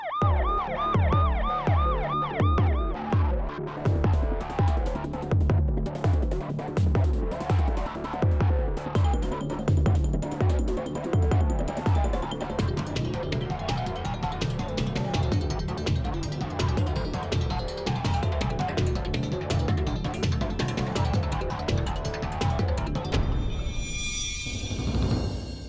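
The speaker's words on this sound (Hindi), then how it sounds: "एम्बुलेंस?" An ambulance siren wails in repeated rising and falling sweeps within a dense, loud mix of dramatic music and noise. It continues throughout and fades into a high shimmering tone at the end.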